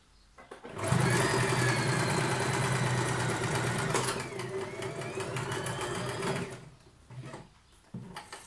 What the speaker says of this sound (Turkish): Öncelikle şuraya bir dikiş atıyorum.